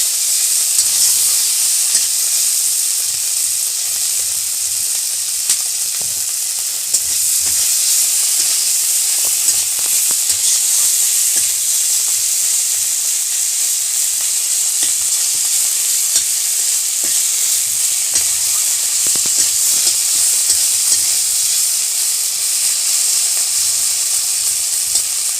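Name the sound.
frying and stirring soyabean curry ingredients with tomato in pan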